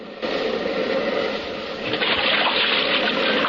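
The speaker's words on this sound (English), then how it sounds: "Hold on, we're going to hit the beach." A radio drama effect of a boat landing on a beach through water: a steady, loud rush of churning water and spray. It swells stronger toward the end, with no voices.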